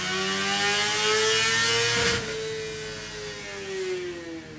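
A 2013 BMW HP4 motorcycle with a full titanium exhaust revving on a dyno: a loud, sustained high-pitched engine wail climbs, peaks, then drops and settles into a lower, wavering drone as the revs fall.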